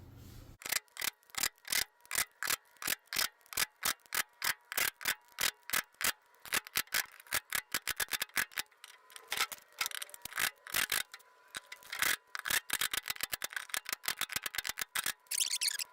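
An impact driver tightening transmission bolts on a Samsung washer, rapid rhythmic hammering clicks repeating steadily in short bursts, close and sharp, running nearly continuously throughout.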